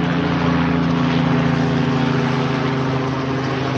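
A loud, steady mechanical drone with a pulsing low hum from a helicopter close overhead along a nature trail in the Staditzwald forest, holding constant throughout.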